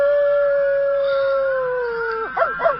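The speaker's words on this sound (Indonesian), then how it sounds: "Aku masih mendengar suara lolongan Dobi." A dog howls in a radio horror drama, one long sustained wail that slowly falls in pitch and then breaks into shorter wavering yelps near the end, loud and close with no talking.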